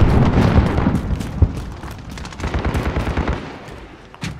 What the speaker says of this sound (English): Got the sentry gun on station.